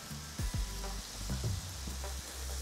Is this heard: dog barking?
no